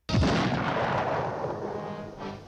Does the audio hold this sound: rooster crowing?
no